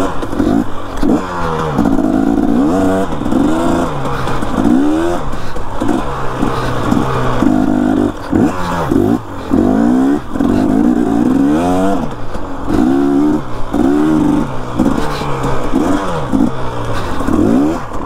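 A motorcycle turns around on a road, its engine loud and close, repeatedly revving up and dropping back in uneven bursts across the whole stretch.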